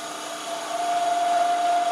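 A wood lathe spins faster while turning a small Christmas tree ornament, a steady motor whine that climbs into a sustained high hum.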